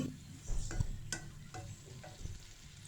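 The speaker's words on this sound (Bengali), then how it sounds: "কলা চিংড়ি মাছ রান্না করতেছি" Banana and shrimp curry frying in a pan, a faint sizzle with occasional clinks and stirring scrapes of a utensil against the pot.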